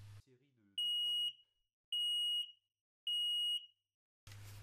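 A Konyks FireSafe connected smoke alarm sounds three loud, piercing test beeps, evenly spaced, after some faint handling noise; a low hum returns at the end.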